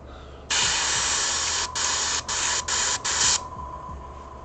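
An airbrush sprays paint onto a sneaker in a loud, steady hiss that starts abruptly and breaks into several short bursts with brief gaps before cutting off, close to the microphone.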